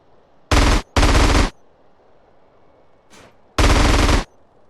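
Loud bursts of automatic gunfire aimed at the player in GTA San Andreas, three long close volleys and one fainter short burst separated by quiet game background.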